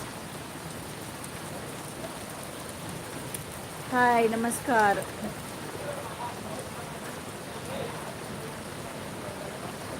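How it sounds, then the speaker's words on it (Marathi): First monsoon rain falling in a steady, even hiss of drops on surfaces, continuous throughout, with a brief spoken greeting cutting through midway. "पहिला पाऊस आणि पावसाची मजा नाही घेतली तर कसला तो पहिला पाऊस"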